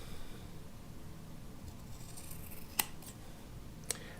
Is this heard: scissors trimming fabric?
yes